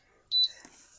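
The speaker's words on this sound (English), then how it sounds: "when I originally turned it on, it beeped." A small Temu washing machine gives one short, high electronic beep at power-on, fairly faint and brief, followed by a soft, fading tail of lower noise.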